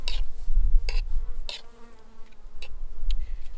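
Bees buzz and drone steadily close by, with a low hum throughout and a few sharper clicks or taps.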